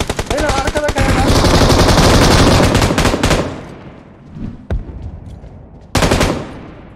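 An M249 machine gun in PUBG Mobile fires long, loud, rapid bursts close by, then the fire stops and a few more bursts follow after a short pause.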